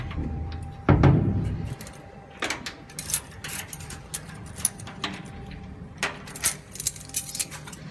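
A bunch of keys jangles and clinks close by in short metallic bursts, with a heavier thump early on and scattered rattles spread across the stretch.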